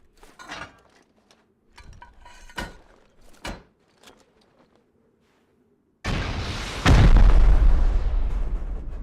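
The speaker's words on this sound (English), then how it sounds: "The rockets pooped on everything." Rocket explosions in the game Rust: several sharp separate bangs and pops spaced a second or so apart, then a sudden loud sustained roar of blasts and rumbling debris.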